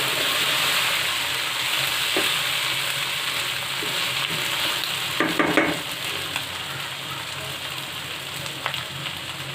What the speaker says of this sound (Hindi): बस यहाँ पे ऑयल में थोड़ी देर में पालक को फ्राई करूँगी